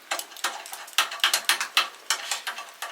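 Top cutting die threaded into a Green Machine press for single cap rivets, giving a quick series of light metallic clicks and ticks, close and crisp, with no talking.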